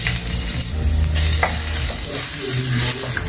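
Crushed ginger frying in cooking oil in a pan, a steady loud sizzle with stirring scrapes running through, no talking.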